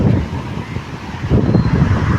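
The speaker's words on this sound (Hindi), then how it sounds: "इतनी अच्छी हवा चल रही है" Wind gusting along a seafront drive in Mumbai, a steady low rushing roar that buffets the microphone, with some surging swells and a faint wash of passing traffic underneath.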